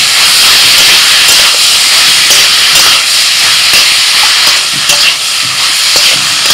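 Sesame paste ground with green chillies stirred into frying onion in a pan, a loud steady sizzle and hiss running throughout with faint scraping strokes, no talking.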